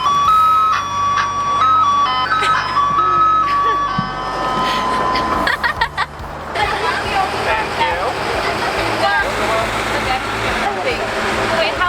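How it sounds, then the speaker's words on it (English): An ice cream truck's tinkling chime melody plays outdoors, loud and repeating, then gives way to a rushing broadband noise. "The ice cream truck is here."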